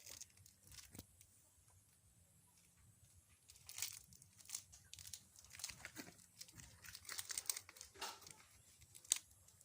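The mouth of a plastic bag being folded over by hand, giving close, quiet crinkling and rustling that comes in short bursts and grows busier near the end, without speech.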